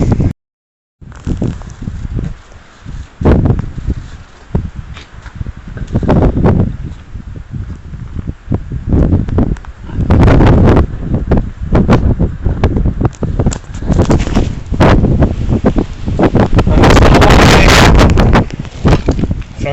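Strong wind buffeting a microphone outdoors on a hill, loud irregular gusts and rumbling bursts after a short silent start, with faint rustling between blasts.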